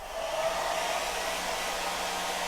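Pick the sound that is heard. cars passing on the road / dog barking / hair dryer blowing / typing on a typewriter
hair dryer blowing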